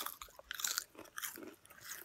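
Crunchy bites into a spicy hot chip during a hot chip challenge, a series of close, crisp crunching and chewing sounds spread over about two seconds, with no talking over them.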